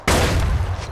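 A single loud shotgun blast in the Far Cry 4 video game, fired at a propaganda poster, with a sharp onset and a heavy booming tail that lingers for most of a second.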